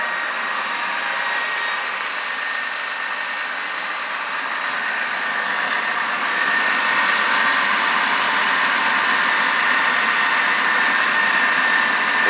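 A Ford car engine idles steadily with the headlights and blower motor on, a continuous broadband hum that grows slightly louder partway through, with no talking over it.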